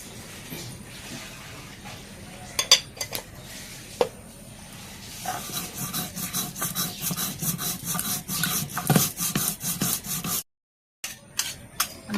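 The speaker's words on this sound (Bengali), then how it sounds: "রসুন বাইটে নিই। আর অল্প একটু কালো জিরা দিন।" Garlic and a little black cumin crushed on a traditional grinding stone: a rough, rhythmic rubbing and scraping that speeds into a fast, steady back-and-forth grind, with a brief pause near the end and a few final strokes.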